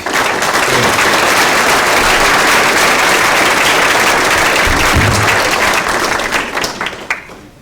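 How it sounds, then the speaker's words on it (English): A large audience applauds architects and engineers at a grand opening, with dense, loud, steady clapping that fills most of the span before thinning out near the end. "I'd like to give them a round of applause"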